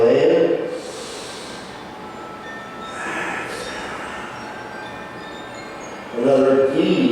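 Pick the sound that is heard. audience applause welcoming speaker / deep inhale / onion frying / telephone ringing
deep inhale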